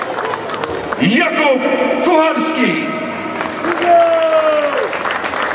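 Crowd applause at the Promień Żary team presentation, a steady wash of clapping running under an announcer's amplified voice calling out player names, with a tonal whistle-like sweep partway through.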